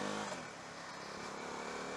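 A KTM Duke 390 motorcycle engine revs up steadily under acceleration on an open country road, a close, continuous, rising drone with wind noise and no talking.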